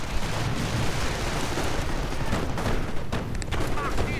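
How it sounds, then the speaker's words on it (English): Gunfire and Nebelwerfer rocket artillery barrages in a World War II strategy game fill the clip as a dense, continuous wash of shots and blasts, loud throughout. "Nebelwerfer fire providing support as well."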